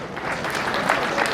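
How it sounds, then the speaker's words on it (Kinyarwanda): An audience applauds at an International Day of Cooperatives event in Rwanda, a dense, even patter of many hands clapping together throughout. "ndagira ngo mubahe amashyi"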